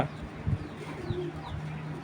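An old-breed Giribaz tournament pigeon coos in a few soft, low bursts nearby, with short gaps between calls over a quiet background.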